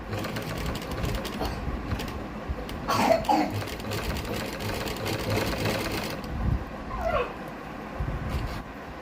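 Sewing machine stitching beaded lace trim onto fabric, running in short bursts with brief pauses, close and moderately loud, with a dog's faint whimpers and a cough in the background.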